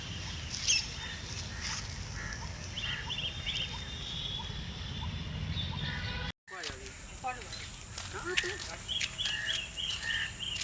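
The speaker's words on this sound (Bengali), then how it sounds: "পাখিদের কিচিরমিচির ডাক শোনা যাচ্ছে," Faint bird chirps and tweets come through a steady outdoor wash among old trees. The short, scattered calls are heard from a distance, with a brief dropout partway through.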